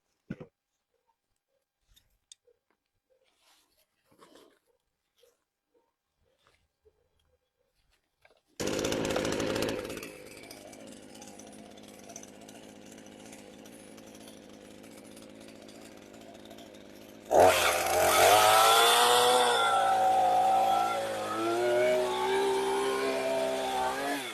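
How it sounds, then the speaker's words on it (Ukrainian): After a few faint clicks and pulls, an AL-KO BKS 4040 gasoline chainsaw starts and idles loudly, then revs hard into a high, buzzing whine that wavers as it runs. "придбати собі ось саме таку ланцюгову бензинову пилу"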